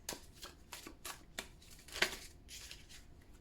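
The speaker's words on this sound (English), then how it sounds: "Let me shuffle." Tarot cards being shuffled by hand, a string of quick, soft riffling swishes in an uneven rhythm, close but fairly quiet, with no voices.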